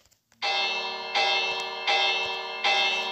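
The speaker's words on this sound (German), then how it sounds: "über dem Brunnen hängt eine Glocke" A bell hung above a fountain is struck four times at a steady rhythm, each loud metallic clang ringing on and overlapping the next, close and with no talking.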